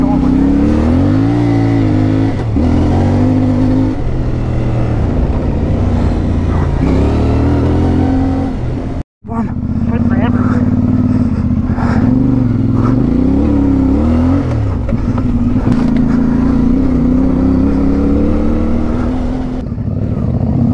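Adventure motorcycles, a CFMoto 450MT, a Suzuki V-Strom and a Royal Enfield Himalayan, ride a dirt trail near Maldon, Victoria. Close single-cylinder and twin engines rev and drone with rising and falling pitch, broken by one brief dropout, and riders talk over them.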